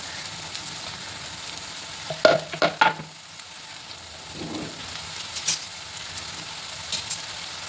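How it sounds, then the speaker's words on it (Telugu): Onions and green chillies fry in oil for paneer masala, a soft steady sizzle with a short cluster of loud spatula knocks and scrapes early on, then quieter stirring and occasional taps. "ఆనియన్స్ అంతా మంచి బ్రౌన్ కలర్ వచ్చే వరకు ఫ్రై చేసుకున్నామండి"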